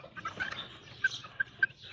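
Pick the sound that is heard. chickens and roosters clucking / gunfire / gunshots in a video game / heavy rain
chickens and roosters clucking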